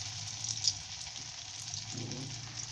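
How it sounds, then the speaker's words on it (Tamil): Leftover idli pieces frying in hot oil in a kadai, a quiet, steady crackling sizzle with small bubbling pops, close and fairly faint. "இப்போ இதை ஒன்று ஒன்றா போட்டு கொஞ்சம் நல்லா ஃப்ரை பண்ணி எடுத்துக்கலாம்"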